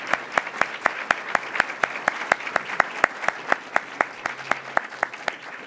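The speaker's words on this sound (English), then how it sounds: "Let's give both of these candidates a round of applause" At a candidate forum, a small audience gives the candidates a round of applause: evenly spaced, fairly sparse claps that keep a steady rhythm throughout, with no voices over them.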